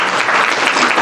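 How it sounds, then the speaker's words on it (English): Conference audience bursts into dense, loud applause, a continuous wash of many hands clapping at once, close and steady throughout with no pauses. "Everybody, clap."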